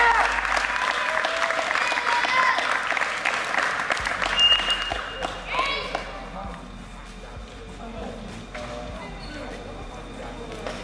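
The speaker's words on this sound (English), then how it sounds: "Give a big MVP All-Star round of applause for Joel Anthony." Crowd applause and cheering at a basketball camp, a loud burst of clapping that gradually thins and fades, with a voice calling out over it and some background chatter.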